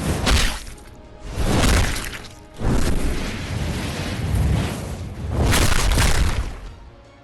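A Kagune attack in the Tokyo Ghoul Break the Chains game bursts out as loud, rolling booming impacts in several heavy waves, with crashing, shattering textures and a roaring rumble.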